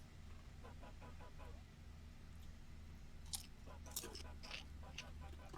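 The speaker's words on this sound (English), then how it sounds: "Sorry, chewing." Someone chews food close to the microphone, soft crunchy bites and mouth noises repeating steadily over a constant low hum, with a few sharper clicks toward the end.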